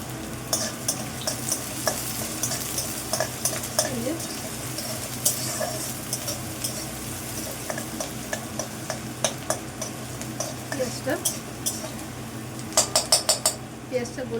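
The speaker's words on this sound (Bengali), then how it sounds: "পেঁয়াজটা গোল্ডেন কালার ভেজে নিই" Chopped onion fries in hot oil until golden, with a continuous sizzle, frequent scraping and clinking of a spatula against the pan, and a voice talking quietly over it.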